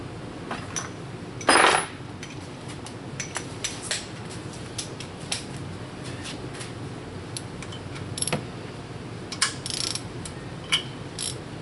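A hand ratchet with a long socket extension works on engine bolts while a cylinder head is installed on a 2007 Mini Cooper S R56, giving short bursts of fast, close clicking scattered through the clip, with no talking.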